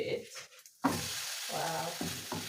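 Milk-soaked bread sizzles in a frying pan as it is flipped, with a sharp contact noise as it lands, then steady close frying broken by brief scraping and faint voice-like sounds.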